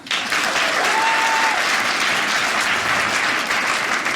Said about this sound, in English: Round of applause if you were spanked as a child.